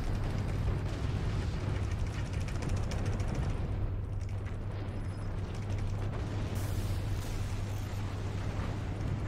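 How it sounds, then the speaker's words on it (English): Mortars fire in the physics-based artillery strategy game Forts, a multiplayer match. Heavy booming blasts and rumbling impacts overlap in a thick, continuous barrage, with a brief rattling mechanical clatter near the end. "Get ready to shoot your mortars."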